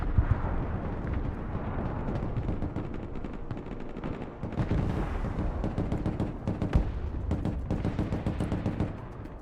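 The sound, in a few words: missiles launching in video game Broken Arrow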